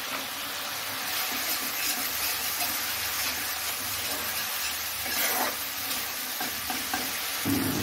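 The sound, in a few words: spice paste of turmeric, cumin and chilli frying in oil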